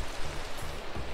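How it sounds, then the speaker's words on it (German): Minecraft rain, a steady dense hiss of rainfall with faint low patter, close and loud, with no talking over it. "Und es regnet immer noch seit gestern."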